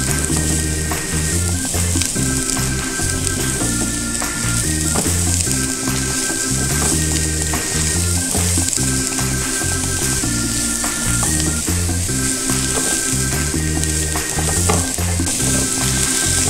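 Sliced mushrooms and vegetables sauté in a pan for a hot and sour soup, giving a steady, close sizzle that runs unbroken throughout, with low tonal sounds in the background.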